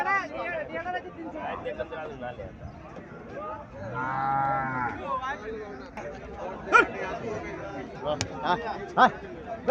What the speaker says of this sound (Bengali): এখানে একটা সাইওয়াল জাতের গাভী দেখা যাচ্ছে